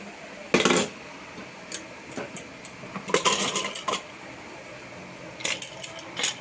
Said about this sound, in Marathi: चला पहिले कुकरचं झाकण खोलूया. हवा गेलेली आहे.